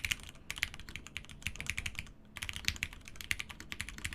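Typing on a Box75 mechanical keyboard fitted with Hyperglide switches, with a steady, close run of crisp clacky keystrokes and a brief pause midway, no talking.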